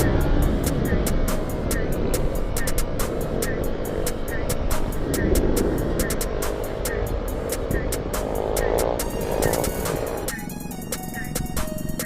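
A group of mini bikes rides out together for a stunt ride, their small engines making a continuous loud buzzing drone with shifting pitch as the bikes rev and move.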